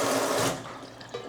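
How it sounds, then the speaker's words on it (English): Warm tap water runs strongly over a wooden spatula at close range, a full rushing splash that then drops to a softer, uneven trickle, with no voices. "I'm rinsing it off with warm water."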